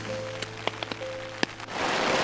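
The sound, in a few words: rain outside a tent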